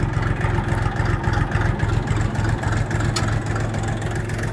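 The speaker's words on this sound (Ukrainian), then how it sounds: "Ось, трактор собі пішов потихеньку." A mini tractor with a KM385BT single-cylinder diesel engine pulls away slowly in low first gear, its steady, thumping low chug running close and loud without any talk.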